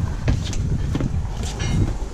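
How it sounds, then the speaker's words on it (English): Strong wind gusts buffet an outdoor microphone, a steady low rumble with surging bursts throughout, loud and close with no talking. "It's way too windy."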